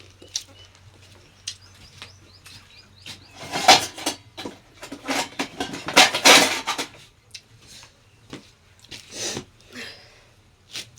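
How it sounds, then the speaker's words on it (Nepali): Metal spoon clanging and clinking against a dish while eating homemade chatpate, Nepali spicy puffed-rice snack; irregular close knocks and scrapes in quick bursts, loud in places, over a low steady hum. "चम्चाले ग्वाङ ग्वाङ खाने साथीहरू"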